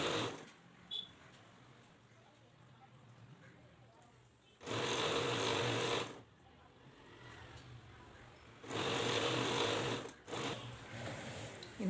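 A domestic sewing machine runs two sustained bursts while stitching a double seam on a child's frock, its steady motor whir loud and close over a quiet room between runs.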